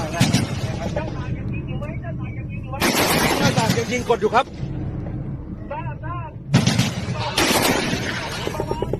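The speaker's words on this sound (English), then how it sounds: "We see that one of their APCs laying down machine gun fire." Bursts of heavy automatic gunfire erupt in several loud stretches, with rumbling between volleys and voices talking over the din.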